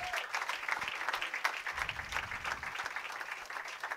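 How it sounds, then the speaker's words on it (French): A church congregation applauds a newly presented married couple, with dense, steady clapping throughout at moderate distance. "Donnez-moi une acclamation pour ce joli couple."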